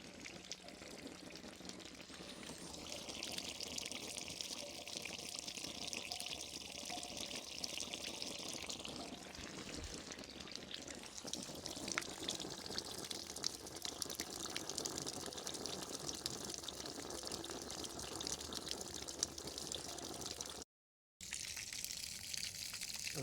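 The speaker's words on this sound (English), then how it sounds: "I'm gonna start filling her with water now" Water pours steadily into the tank of an engine-driven air compressor, a continuous close gushing that shifts in tone as the tank fills, with a brief cut near the end and no speech.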